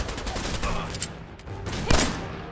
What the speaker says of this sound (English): Why the hell are you shooting at me?